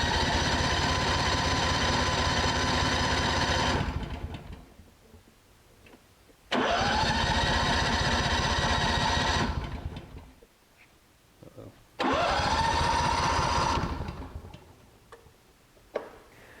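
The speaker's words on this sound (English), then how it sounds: "So here we have a generator. We've been in the carburetor. We're going to start it." A Honda generator that sat for years on bad fuel, now with a repaired carburetor, starts three times. Each time it catches and runs loud and close for a few seconds with a ticking mechanical rattle, then shuts down.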